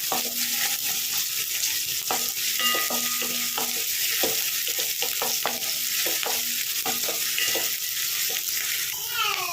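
Onion and green chilli fry in a pan with a constant loud sizzle, punctuated by repeated scraping and stirring clicks of a spatula throughout, no voices.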